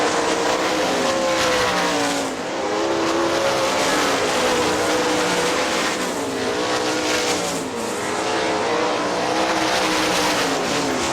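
410 sprint cars race at Hartford Speedway Park in Michigan, a loud continuous engine roar rising and falling as cars pass close by, with no talk over it.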